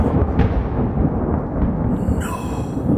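A loud, low, rumbling roar of thunder from the video game LISA fills the whole stretch, with a brighter crackle of lightning near the end.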